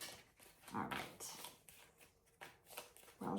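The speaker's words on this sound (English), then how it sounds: "We're going to shuffle" Tarot cards are shuffled in a few short riffling bursts, soft and close, with quiet gaps between them.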